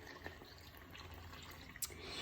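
Cold water pours from a measuring cup into a bowl, a short splashing trickle of liquid with a few drips, heard close and fairly quiet with no talk over it.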